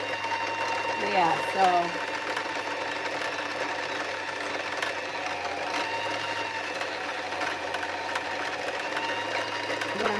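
A Juki sewing machine stitching fabric, with a steady mechanical whirring hum running throughout while someone talks over it briefly.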